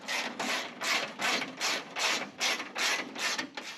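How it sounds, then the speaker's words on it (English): A bolt being tightened into a dash cover during a G-body Cutlass dash and Vintage Air install, with about ten even ratcheting bursts in steady rhythm, close by. "Go ahead and stick a bolt in this cover just to hold everything in place."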